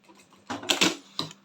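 A home sewing machine runs a seam on a zippered pouch with a lining, bursts of rapid mechanical clatter starting and stopping over a second and a half, close and moderately loud with no talk.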